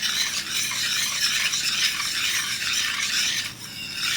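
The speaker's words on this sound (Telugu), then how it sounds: "ఇప్పుడు ఇది మనం ఈ విధంగా బిస్కర్తో బాగా కలుపుకుందాం." Butter and sugar being whisked together for a chocolate cake batter cooked in a pan, giving a continuous close scraping, stirring rasp with no pauses.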